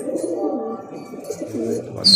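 Najafi pigeons coo softly in low, rolling murmurs from close by, with a faint higher chirp near the end.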